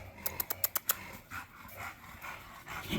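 Dogs on a morning walk pant quietly through a run of quick sharp breaths, followed by faint breathy rustling and soft movement, close to the listener.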